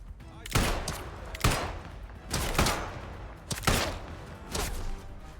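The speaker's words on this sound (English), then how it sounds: "I'm shooting." Bursts of gunfire in the video game Atomfall: about five loud volleys arrive in an irregular rhythm, each a sharp crack with a brief rumbling tail, over a low steady background.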